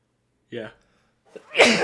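A single sharp sneeze bursts out close and loud near the end, after a brief spoken word and a moment of silence.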